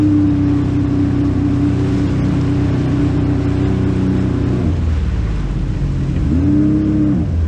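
A jet ski engine near a beach drones steadily at low revs, dips in pitch and then rises briefly again, loud and close with no talking.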